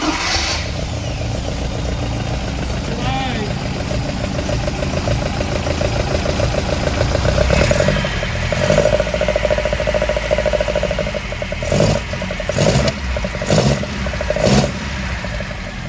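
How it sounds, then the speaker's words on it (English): A Ford Pinto engine in a 1979 RS2000 idles unevenly, then revs up in several sharp blips that each fall back to idle, heard up close with no talk. "a Pinto engine always sounds awful on an iPhone"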